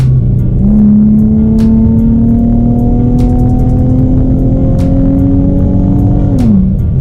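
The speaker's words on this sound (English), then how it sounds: "I have a custom True Dual exhaust with Motordyne arc pipes and MagnaFlow resonators" A Nissan G35/350Z with a custom true dual exhaust, Motordyne arc pipes and MagnaFlow resonators revs loudly up close, a deep rumbling note climbing steadily in one long pull before dropping back off.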